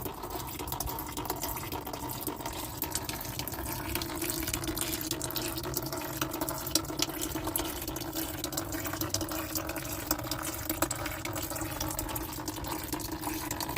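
Coolant from the engine of a 2019 Ram 1500 Classic pickup truck pouring steadily into a bucket, a constant close splashing stream of liquid with no pauses and no talking.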